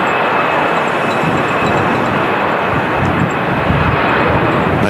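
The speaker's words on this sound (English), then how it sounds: "There goes the EasyJet A320 departing." An EasyJet Airbus A320 departing from a windy Manchester Airport, a loud, continuous jet engine roar that fills the whole clip without easing off.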